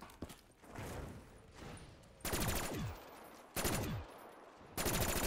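Automatic gunfire from Call of Duty Black Ops 3 custom Zombies (Dawnstar map): three loud sustained bursts, each a dense rattle of rapid shots, with quieter game ambience between them.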